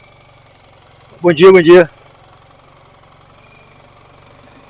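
A BMW R1300GSA motorcycle idles with a steady, low, diesel-like engine hum throughout, while a voice briefly speaks a greeting over it.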